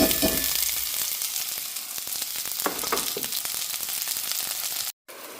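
Sliced big onion drops into hot oil with mustard seeds, giving a loud, close, continuous sizzle with crackling pops and a few stirring clinks. It cuts out abruptly near the end.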